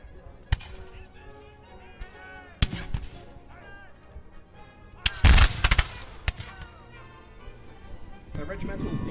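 Musket volleys and scattered shots at a Fort George historical reenactment, several sharp cracks with one loud ragged volley in the middle, under a narrator's steady speech.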